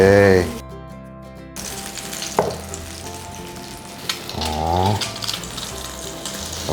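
Steady sizzling and crackling of bread frying in butter in a hot pan, with stirring sounds and a voice speaking over it.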